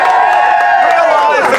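Vigil crowd raising a loud, continuous cheer, several voices holding shouted notes together over a bed of clapping and calls, steady in volume from start to finish.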